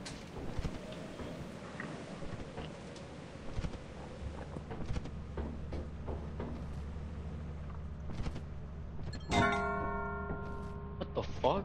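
A bell rings in the video game Lethal Company, its sustained tonal strike ringing out clearly near the end amid scuffling footsteps and background noise.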